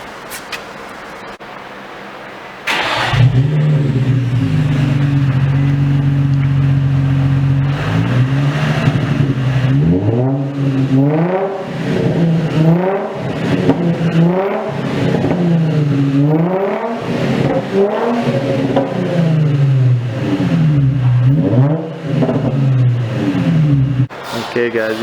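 An Infiniti G35 engine with its stock catalytic converters still fitted idles, then revs repeatedly in rising and falling sweeps, loud and close, with a brief noise at the start.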